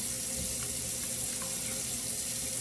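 Three cups of water run steadily from a tap into a pot for stewed oxtails with butter beans, a continuous close rushing splash with no talking.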